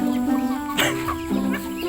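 Domestic chickens raised alongside ducks cluck several times at close range in brief, uneven bursts, with no talking.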